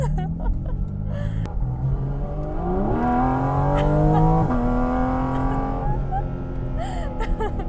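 A Porsche Cayman GT4 RS engine revs hard, pitch climbing through gears with short downshift blips, loud and close.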